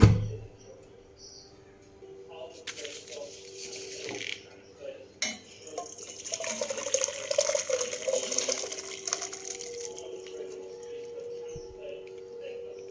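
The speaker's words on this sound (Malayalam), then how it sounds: "ഇതിനകത്ത് വെള്ളം ഡ്രെയിൻ ചെയ്യാം" Water is poured off boiled papaya into a vessel, a splashing, pouring wash building in the middle and easing off, with a few clinks of the pot nearby.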